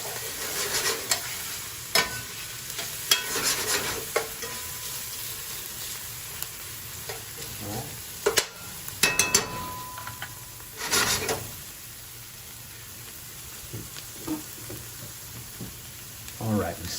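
Onions frying in canola oil in a pan give a steady low sizzle, broken by scattered scrapes and stirring clatters. Sharper bursts come around the middle, with occasional faint background voices.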